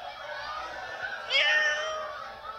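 A cat meows for treats in a drawn-out, rising call near the listener, with a louder burst partway through, against a quiet room.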